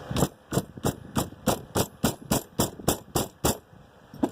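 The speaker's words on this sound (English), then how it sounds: "I'm going to take a mallet and I'm just going to hit and bend" A mallet strikes a stainless steel spoon to bend it, about a dozen sharp metallic blows at an even, brisk rhythm, loud and close, with no talking.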